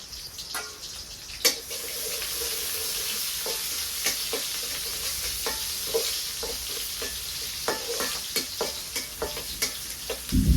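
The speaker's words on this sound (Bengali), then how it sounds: "মিষ্টি লাউ ভাজি করার জন্য কড়াইতে পেঁয়াজ কুচি দিয়ে দিছি।" Chopped onion frying in oil in a wok makes a steady sizzle, broken by repeated scraping clicks and knocks of stirring that grow busier toward the end; no talking.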